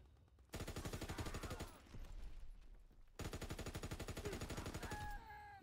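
Gunfire in Call of Duty WW2, two long bursts of rapid automatic shots with a brief gap between, loud and close, ending with a few faint metallic pings.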